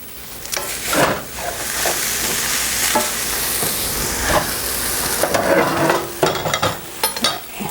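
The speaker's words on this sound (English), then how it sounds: "Take the lid off and give that a stir." Vegetarian pie filling is stirred in a pan, a steady sizzle and hiss with a spoon scraping and clattering in irregular strokes throughout, fairly loud and close, with no talking.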